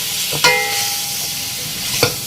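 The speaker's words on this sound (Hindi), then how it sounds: "इस गोश्त को इस प्याज के साथ अच्छी तरह भूनना है" Mutton pieces frying with onion in a karahi and being stirred, a steady close sizzle broken by two sharp scrapes of a spoon against the pan, with no talking.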